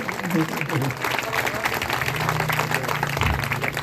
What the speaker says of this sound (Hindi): तालियां अच्छी बजाओ जरा।